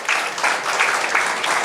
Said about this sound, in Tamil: நம் அனைவரின் சார்பிலும் ஒரு பலத்த கரகோஷத்தை எழுப்பி